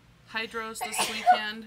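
One short, sharp sneeze sounds close to the microphone during a casual live makeup session, surrounded by ordinary conversation.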